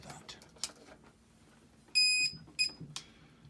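A timegrapher is switched on to test a Seiko 7006-5059 watch. It gives two close electronic beeps, one long and one short, over a faint room background, with scattered light clicks and no talking.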